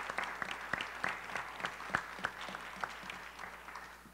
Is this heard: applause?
yes